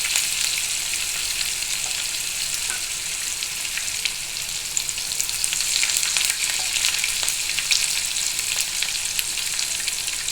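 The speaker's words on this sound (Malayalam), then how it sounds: "സവാളയും കൂടി അതിൻ്റെ കൂടെ ഇടുകയാണ്" Onions sizzling in hot oil with spluttered mustard seeds nearby, a steady frying hiss with scattered small crackles and occasional stirring, no talking.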